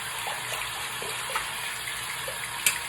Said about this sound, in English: So get it all rinsed out